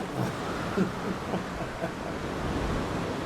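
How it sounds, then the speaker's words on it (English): Broad, steady roar of wind in the video game Jurassic World Evolution 2, with gusty surges and low rumble, filling the whole stretch without clear pauses. "As you can see here, it's real windy."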